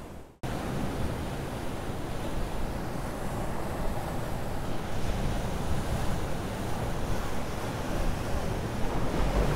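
Ocean surf rolls in at Sunset Cliffs Natural Park in San Diego, a broad, steady wash of breaking waves mixed with gusty wind buffeting the microphone, with no voices.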